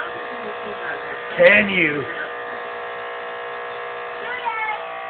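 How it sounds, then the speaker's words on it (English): A television gives off a loud, constant electrical buzz with a steady tonal whine, heard close up. A person speaks briefly over it partway through. "So this is what my TV sounds like."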